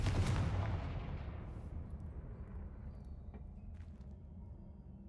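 A Confringo blasting spell goes off in the Hogwarts Legacy video game, a loud close boom with a rushing burst that fades into a long low rumbling tail.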